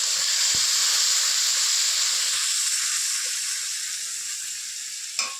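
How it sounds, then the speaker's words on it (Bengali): Spice paste sizzles and hisses steadily in a hot pan while frying for a Bengali prawn malai curry, loud and close at first, easing slightly, with a short stir clink near the end. "এখন যে মশলাটা তৈরি করেছিলাম ওটা ফাটিয়ে নেব।"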